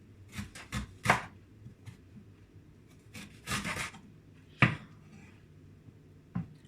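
Garlic being chopped for a homemade immune-boosting juice shot: irregular close knife strikes and short scraping rubs on a board, separated by brief pauses.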